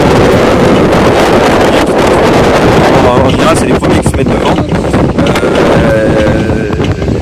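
Strong outdoor wind buffets the microphone during a cycling race prologue. It makes a loud, constant low roar that runs through the whole stretch under someone speaking French.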